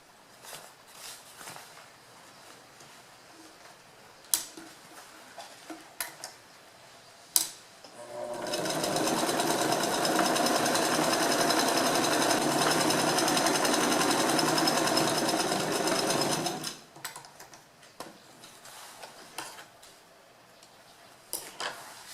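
A sewing machine stitches fabric for a bread bag, running in one steady continuous burst of about eight seconds, with quieter handling clicks and taps before and after.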